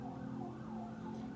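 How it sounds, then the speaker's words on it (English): Sirens from emergency vehicles wail faintly in the distance, a low, wavering tone over steady background hum with no talk. "Do you hear these sirens?"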